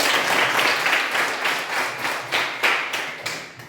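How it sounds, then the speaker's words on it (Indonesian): Classroom applause as students clap together, a loud burst of dense clapping that settles into a few rhythmic, evenly spaced claps near the end. "Tepuk tangan dulu."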